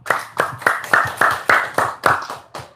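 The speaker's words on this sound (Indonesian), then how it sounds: "Tepuk tangan dulu dong." An audience claps hands at a talk, about ten sharp, evenly spaced claps in a steady rhythm, close and fairly loud.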